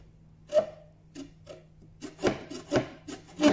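A newly hung wooden door rubs and scrapes as it catches on the edge of its frame, a series of short, close creaks and rasping scuffs, sparse at first and then in quicker bursts.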